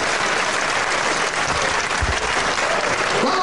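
An audience at a wrestling match claps steadily, a dense, loud wash of applause that holds evenly throughout.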